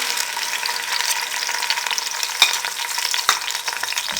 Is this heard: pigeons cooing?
no